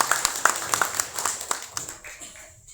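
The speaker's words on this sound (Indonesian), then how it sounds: "Kasih tepuk tangan buat beliau." Scattered hand claps from a small audience, a quick burst of clapping that thins out and fades within a few seconds.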